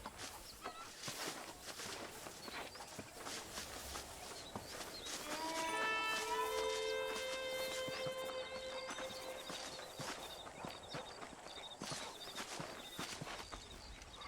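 Horse hooves clip-clop at a riding pace in the Western game Red Dead Redemption. The soft, steady clopping runs throughout, and a brief tonal chime rises over it in the middle.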